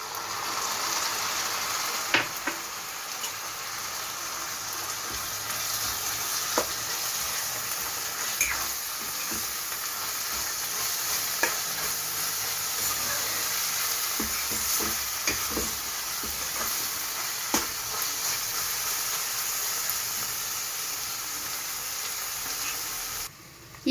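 Onions and chopped medium tomatoes frying in a pan for a mutton curry, a steady soft sizzle with occasional scraping stirs, close and fairly quiet, no talking.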